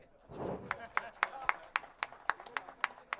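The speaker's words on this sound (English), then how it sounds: "At least give some little bit claps." Audience clapping at a business summit convention, starting as a murmur and then breaking into a sparse, steady run of about ten distinct, separated claps at a moderate distance, with faint voices underneath.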